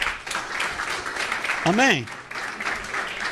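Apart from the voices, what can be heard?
church congregation applauding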